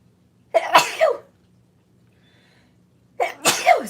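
Two separate sneezes, each a sharp explosive burst about two and a half seconds apart, close and loud, with quiet background between them.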